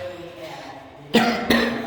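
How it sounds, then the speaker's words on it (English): Two sharp, loud coughs about a third of a second apart come from a man with a lingering cough during a tour of a new house in Manila, following a quiet moment. "Excuse me, I still have a cough."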